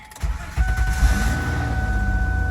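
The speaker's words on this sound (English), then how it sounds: "let me try to start the car" A car engine cranks and catches after a new lead-acid battery is fitted, then settles into a steady idle with a low rumble and a faint whine.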